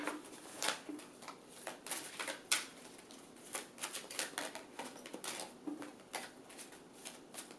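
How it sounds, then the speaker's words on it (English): Rapid, crisp riffling and flicking of tarot cards, a steady run of sharp papery taps and bursts close by with no voices. "I'm going to shuffle these cards."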